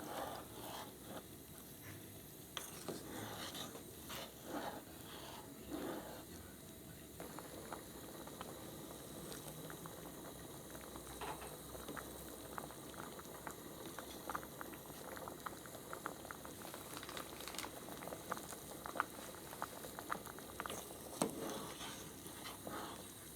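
Tapioca pearls boil in a pot of water for a pumpkin and coconut milk dessert, giving a steady low bubbling patter with scattered pops throughout, fairly quiet and without any talking.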